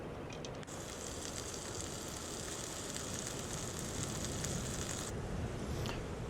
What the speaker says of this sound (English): Cook the sausage on.